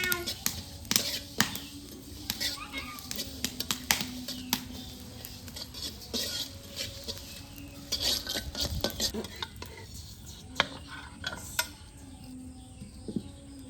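Mango pickle cooking in mustard oil in a pot over a clay stove, a continuous bubbling, sizzling bed with frequent scraping and clinking of a spoon against the vessel; occasional faint voice in the background.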